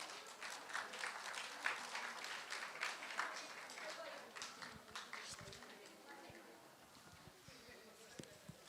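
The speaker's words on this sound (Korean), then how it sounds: "박수로 모시겠습니다." Church congregation applauding to welcome a pastor at a Korean thanksgiving revival service, steady crowd clapping that swells then thins into scattered claps, somewhat distant and soft.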